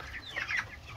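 A chicken clucks briefly nearby, a short burst of throaty calls with no voices around it.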